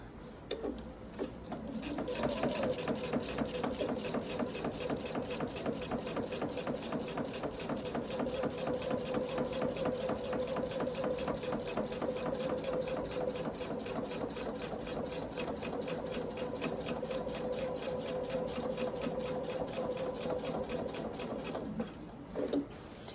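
A sewing machine stitches a quilt in one continuous, even run of rapid mechanical clatter with a steady hum underneath, close and uninterrupted after a short quiet start.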